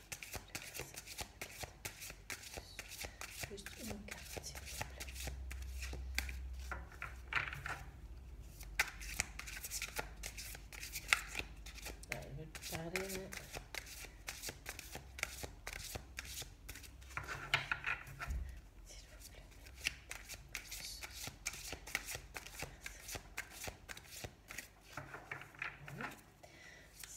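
Tarot cards shuffled by hand in a quiet room, a soft continuous riffling patter running throughout, close and fairly quiet, with faint low background murmurs.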